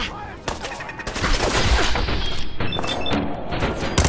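Machine gun turret fire in Fallout 4 plays as a dense, continuous burst of rapid thudding shots, loud and close, with a few heavier impacts and no pauses across the stretch.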